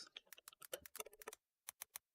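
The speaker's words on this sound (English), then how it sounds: "My keyboard sucks!" Rapid clicking of a computer keyboard: a quick burst of close, crisp keystrokes, a short pause, then three more spaced taps.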